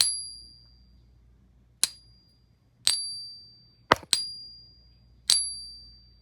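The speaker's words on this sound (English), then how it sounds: "We're going to just go ahead and ping it." A pure silver bullion coin is pinged about six times at irregular intervals, each tap giving a sharp, bright ring that fades fairly quickly, close and clear against near silence.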